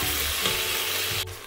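Spices sautéing in a pan for chatpati, a loud continuous close sizzle that drops off sharply near the end.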